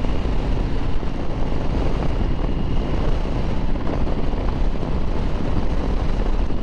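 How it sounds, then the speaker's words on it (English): Strong wind roars steadily across the microphone while a Harley Davidson Sportster cruises down the highway, a dense, unbroken buffeting rush with no voices. "Very windy."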